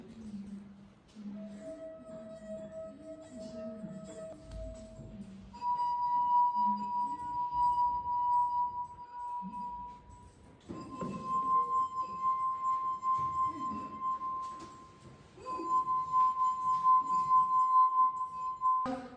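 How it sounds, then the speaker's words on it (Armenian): Sustained ringing tones from wet fingers circling the rims of glasses holding different amounts of water, several pure pitches in turn, each held for a few seconds, with faint handling noise beneath. "Դատարկ բաժակում ձայնը ավելի բարձր է, իսկ շատ տարայով ջուրը ձայնը ավելի կոշտ է"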